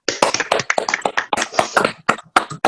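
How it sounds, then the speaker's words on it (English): Scattered hands clap over several microphones on a group video call, an uneven, irregular patter of close, sharp claps running for a few seconds with little talk. "Feel free to open your microphone and clap."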